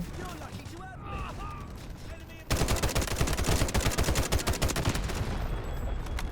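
Rapid automatic gunfire from an assault rifle or machine gun in the shooter game Delta Force Hawk Ops, a dense, loud burst of shots running continuously after a brief stretch of quieter in-game sounds.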